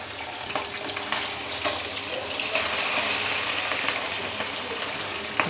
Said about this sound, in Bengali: এটা এখন আম্মু ভাজবে।